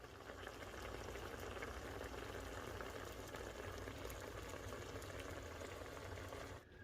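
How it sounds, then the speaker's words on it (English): Continuous thick bubbling and popping of homemade cranberry sauce simmering in a pot on medium-low heat, steady and close, with no talking. "When it starts bubbling up too much, I'll cut my heat down."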